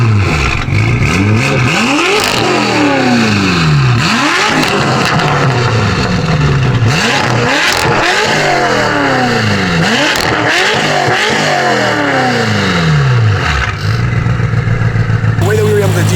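Custom de-stroked BMW M6 engine with a shorter billet crank and base tune, revved repeatedly toward an 8,000 RPM limit in loud, close rising and falling sweeps, several throttle blips in succession before settling to idle.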